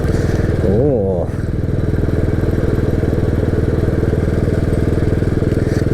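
A Royal Enfield motorcycle rides on sand, its engine thumping in a steady close rhythm throughout, with a brief voice rising over it early on.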